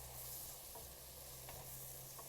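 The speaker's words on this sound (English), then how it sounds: "Just give them a quick saute." Ingredients sautéing in extra virgin olive oil in a pan make a faint, steady sizzle with a few light stirring taps, quiet and close, with no voices.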